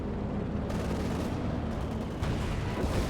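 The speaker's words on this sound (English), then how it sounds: "Aircraft knocked out of the sky." Aircraft shot down in Company of Heroes 2, a dense rumbling barrage of explosions and gunfire rolling on for several seconds, loud and continuous with heavier bursts partway through.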